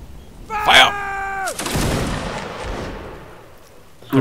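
A regimental firing line kneels and fires a volley of muskets. A loud shouted command is followed by one rough, booming burst of gunfire that trails off into a long rumbling echo.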